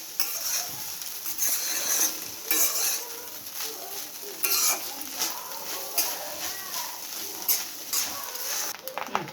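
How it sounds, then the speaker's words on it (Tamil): A spoon scrapes and stirs masala fried rice in a pan in repeated bursts of gritty, close-up scraping and clinking, with a light sizzle underneath. "எல்லா மசாலாவும் எல்லா இடத்துல ஸ்ப்ரெட் ஆகிற மாதிரி கிண்டிக்கோங்க"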